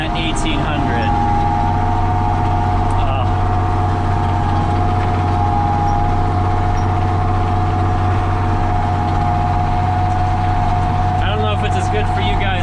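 Ford tractor pulling a plow, its engine bogging down a little under load before the governor kicks in, giving a loud, steady low drone and whine that stays close throughout.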